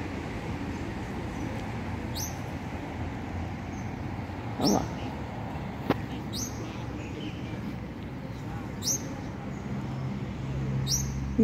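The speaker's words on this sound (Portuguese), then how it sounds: "os pássaros estão todos felizes, né? Porque acabou a chuva" Birds chirp in a city square in Ribeirão Preto after rain, with short, high calls repeating every couple of seconds over a low, steady urban rumble.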